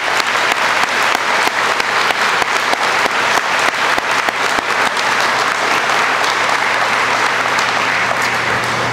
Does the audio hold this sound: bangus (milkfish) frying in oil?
no